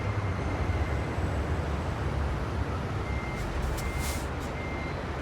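A truck backs up in American Truck Simulator. A reversing alarm beeps steadily over a continuous low engine rumble, with no talk.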